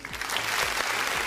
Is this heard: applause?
yes